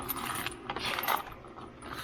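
Metal screws clink and rattle as hands rummage through a parts bin, a scattered series of small, close jingling taps that come in quick clusters.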